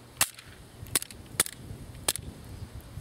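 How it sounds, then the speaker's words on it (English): A pistol magazine slammed hard into the grip with the slide snapping forward, heard as four sharp, loud metallic clacks spaced about half a second to a second apart over a quiet background. "When you're loading a magazine, if you pound it in hard, this slide will go forward."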